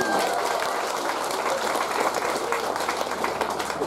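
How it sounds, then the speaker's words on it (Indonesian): Audience applause at a community gathering in Fakfak district, Papua: a dense, steady wash of many hands clapping that stays loud and even throughout, with faint voices mixed in. "Kita tepuk tangan buat Mama Dora"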